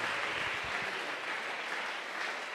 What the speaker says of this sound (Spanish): Sáquese la mano de los bolsillos y déle ese aplauso al Señor en esta mañana.